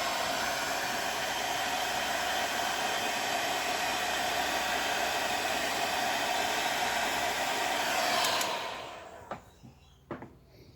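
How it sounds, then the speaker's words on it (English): A heat gun blows hot air onto heat shrink tubing over a Hobbywing 1080 ESC's wiring, a steady loud broadband rush lasting about eight seconds before cutting off, leaving a few soft handling clicks. "then we get the heat gun under it"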